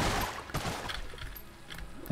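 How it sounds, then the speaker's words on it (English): Trash cannon firing in the video game Enter the Gungeon: a loud burst of rapid blasts at the start, then scattered softer shots and impacts over a steady background of game noise. "It's the trash cannon."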